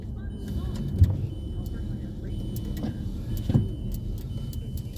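A car rolls through city streets in Lawrence amid construction, with a low interior engine and road rumble, a couple of dull thumps, and faint voices in the cabin.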